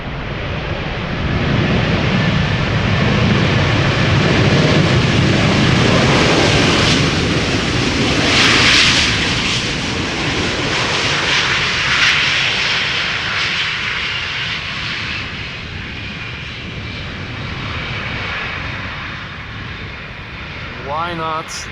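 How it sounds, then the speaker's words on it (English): A 15-year-old airliner arriving at Amsterdam Schiphol after a flight from Istanbul gives a loud, sustained jet-engine roar that slowly eases, with wind-like rushing and a voice talking over it. "this airplane has been flying for 3 hours and 10 minutes to get from Istanbul to Amsterdam"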